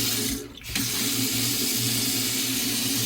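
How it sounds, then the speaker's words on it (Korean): Water runs steadily from a newly installed Daelim Dobidos FL0612C washbasin faucet, a loud close gushing stream with a brief dip early on, then a continuous splash into the basin. "냉수, 온수 다 잘 나온지 확인하시고요."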